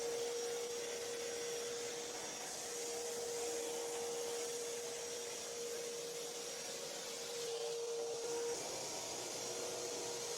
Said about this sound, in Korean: 청소기 작업 중요하죠